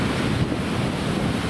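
Wind and sea waves at the seaside on a cold day roar continuously as a dense, loud wash of noise, with heavy wind buffeting the microphone and no voices.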